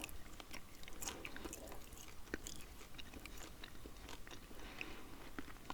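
Sugar-free gum chewed close to the mouth, with quiet, irregular wet clicks and soft crunchy bites repeating over several seconds, no talking.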